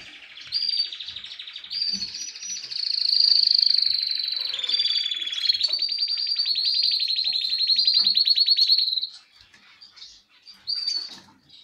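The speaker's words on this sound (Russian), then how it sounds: "Сейчас Кеннер споет" A male canary sings a long, bright warbling song of rapid trills and rolling phrases, loud and close, then a few shorter chirps after a brief pause.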